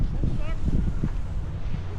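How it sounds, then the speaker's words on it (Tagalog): Strong wind buffets the microphone on a climb toward a zipline near Nacpan beach in El Nido, Palawan, a low rumbling roar running throughout under people talking. "Lakas ng hangin ha."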